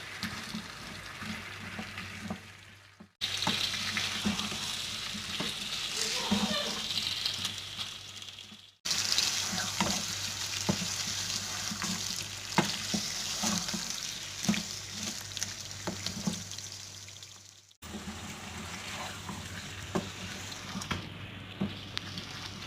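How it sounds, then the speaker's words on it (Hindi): Round gourd (tinda) frying in spiced masala in a pan makes a soft, close sizzle with light stirring clatter. The sizzle comes in several stretches broken by short silences, and no one speaks. "अच्छी तरह मसाले में फ्राई करना है 5 मिनट के लिए"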